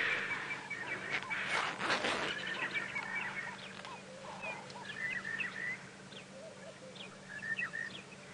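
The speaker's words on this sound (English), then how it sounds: "There's lots of bird calls." A lively mix of bird calls and chirps at a dam during an early-morning safari drive, with several birds calling at once against a steady low background hum outdoors.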